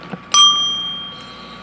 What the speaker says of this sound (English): when Dooplis rings the bell